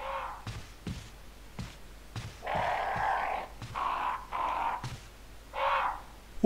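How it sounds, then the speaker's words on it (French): Crows in the video game Resident Evil HD give a series of rasping caws, alongside faint regular thuds like footsteps, the calls coming in short bursts over a few seconds. "Oh des corbeaux!"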